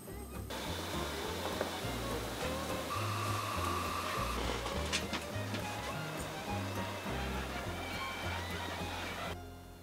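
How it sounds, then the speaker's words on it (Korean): Abalone steaming in a steamer, a continuous loud hiss and rumble of boiling water and rising steam, steady throughout with faint clinks and a brief higher whistle partway through. "자, 이렇게 전복을 찌고 있는데요."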